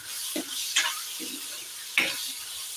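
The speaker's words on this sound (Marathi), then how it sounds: "इकडे मसाला चांगला परतून झाला" Masala for a rassa being sautéed in a pan, with a quiet background sizzle and three distinct scraping stirs, close and without talk.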